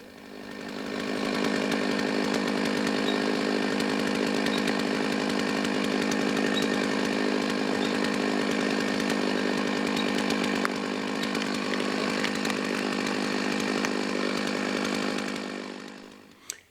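A chainsaw runs steadily at high revs, biting continuously through a large, dead post oak tree for many seconds before cutting off abruptly at the end.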